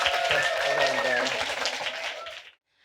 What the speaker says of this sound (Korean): 우리 학생과 학부모님께 뜨거운 박수 부탁드리겠습니다